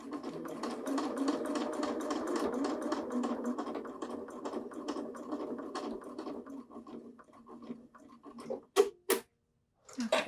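Sewing machine stitching a racerback tank top, a fast even run of needle strikes that slows and thins out, ending in a few sharp isolated clicks and a brief silence.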